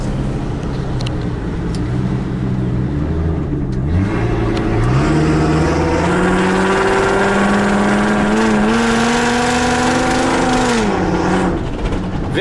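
A modified Ford Excursion Eddie Bauer with a V10 engine revs up steadily and loudly, pitch rising in stages over a continuous rumble, close up and without talk.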